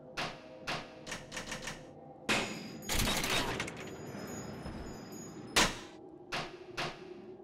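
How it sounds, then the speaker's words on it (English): Ion laser firing in BioShock 2, heard as a string of sharp repeated bursts, then a dense sustained blast around the middle, followed by more spaced shots, loud and near. "Now we can shoot laser beams!"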